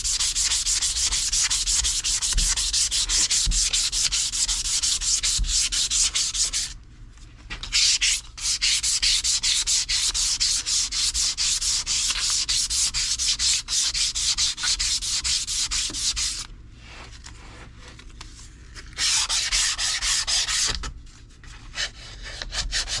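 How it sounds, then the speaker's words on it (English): Light hand sanding of a hickory hammer handle during a shop restoration, a steady close scratchy rubbing kept up in long strokes, with two short pauses before the sanding carries on. "We're going to light sand that down, put a wedge, and send her home"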